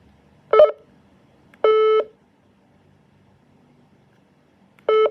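A Dewalt 2-watt two-way radio gives three short electronic beeps spaced apart as its mode button is pressed, clear and close against near silence.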